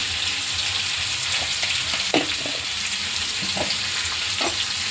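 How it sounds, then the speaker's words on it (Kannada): Salted onions soften as they fry in oil for tomato chutney: a strong continuous sizzle fills the space up close, with occasional spatula scrapes and one sharp knock against the pan, and no one talking. "ಸ್ವಲ್ಪ ಫ್ರೈ ಆಗಲಿ ಈರುಳ್ಳಿ"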